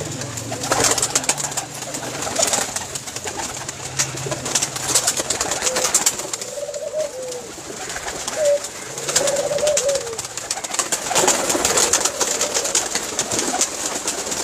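Pigeons kept by fanciers in Jhelum, Pakistan, coo in soft, rolling bursts, several times in the middle of the recording, against a steady hum with scattered taps and rustles nearby.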